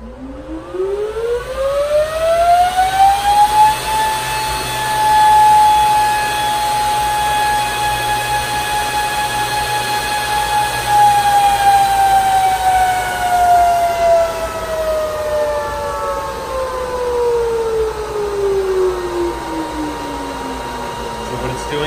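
A Whatsminer M20S crypto mining machine spins its cooling fans up after being plugged in, a loud rising whine that holds steady, then slowly falls away, with faint talk underneath.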